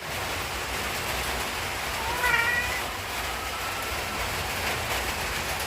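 A soaked cat in heat cries out in a single drawn-out, wavering meow over a steady hiss of falling rain.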